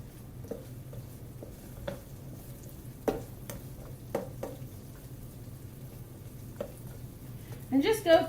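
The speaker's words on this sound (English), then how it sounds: "I've got my spatula and I'm just sort of going over where the onions are" Diced onions fry faintly in a pan while a spatula breaks them apart, giving sparse soft taps and scrapes over a low, quiet sizzle.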